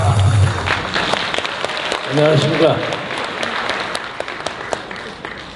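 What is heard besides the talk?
audience applause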